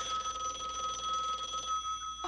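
A telephone rings late at night in an indoor scene: a steady, moderately quiet electronic trill sounds continuously, then stops abruptly near the end, with no talk over it.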